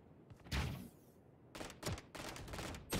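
Submachine gun fire in a video game, several dense bursts of rapid shots with short pauses between them, fairly quiet overall and with no talking.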